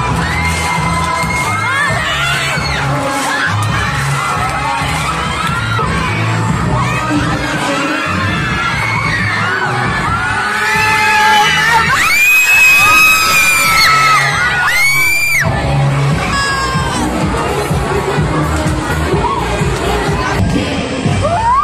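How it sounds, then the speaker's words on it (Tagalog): Students at a school dance performance scream, whoop and cheer loudly, a dense excited crowd of young voices over background music, with sharp peaks of shrieking throughout. "Grabe po yung mga hiyawan ng mga estudyante."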